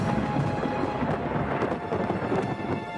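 Thunder rolls through a thunderstorm with rain falling, a loud continuous rumbling roar lasting the whole stretch, with no voices.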